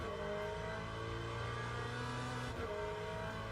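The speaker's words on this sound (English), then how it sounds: "The WEC exhaust is different in the Corvette than the IMSA one." A Corvette race car running the WEC-spec exhaust revs hard, its loud steady engine note holding close and continuous with a brief dip and surge partway through.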